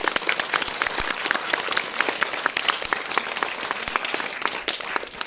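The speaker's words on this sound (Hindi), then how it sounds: "एक बार इन अभिभावकों के लिए जोरदार तालियां।" Hands clap hard for parents attending a school Independence Day celebration, dense and continuous applause from a sizable crowd, even and sustained from start to finish with no speech over it.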